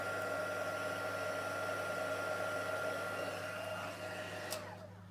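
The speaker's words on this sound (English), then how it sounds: "Use something hot to puff it up. And the hotter your heat tool is, the quicker it works" Heat tool blowing hot air to puff up craft puff paint on a card, a steady close whooshing drone with a low hum that fades slightly as it is switched off near the end.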